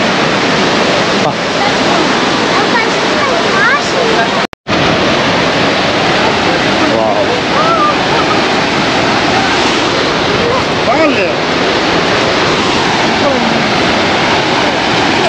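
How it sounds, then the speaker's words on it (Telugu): Gaganachukki waterfall at Shivanasamudra roars as a dense, steady wall of loud rushing water that fills the whole scene without letup, broken only by one brief dropout. "ఫైనలీ గగనచుక్కి వాటర్ ఫాల్స్ దగ్గరికి అయితే వచ్చేసాము"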